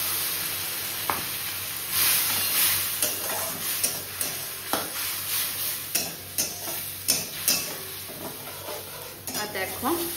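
Tomato and spices fry in oil in a pan, a continuous sizzle broken by repeated scraping and clinking stirring strokes, close and fairly loud.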